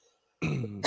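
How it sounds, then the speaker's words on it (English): A man gives a single sharp cough, close and clear after a moment of silence, followed by a short breathy tail. "Excuse me for coughing."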